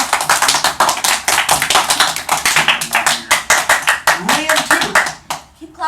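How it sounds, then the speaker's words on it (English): A crowd claps in steady rhythmic unison, loud and close, with voices mixed in before the clapping fades out near the end. "Keep clapping, Liam guys."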